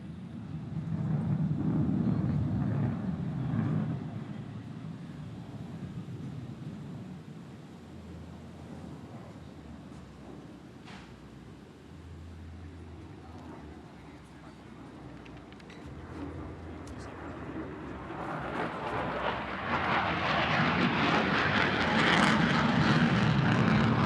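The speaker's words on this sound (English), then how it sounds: "This demonstrates the maneuvering capabilities of the F-35C at low speeds and high angles of attack." An F-35C fighter jet flying low-speed, high angle-of-attack maneuvers overhead, a distant, sustained engine roar that fades in the middle and swells louder again toward the end, heard alone.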